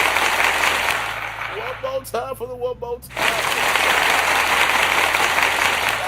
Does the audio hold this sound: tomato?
no